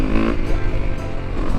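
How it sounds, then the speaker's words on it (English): A motorcycle engine is revved hard for wheelies, a loud, close, rough roar that holds steady across the short clip without talk. "Let's do some wheelies."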